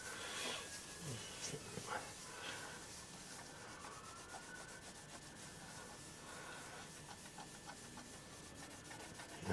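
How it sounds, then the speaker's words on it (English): A clean cloth rubs polish residue out of the holes in a Webster engine part, giving a steady soft scuffing and hissing friction close by, with faint higher scrapes running through it. "Let's just give those holes a rub over"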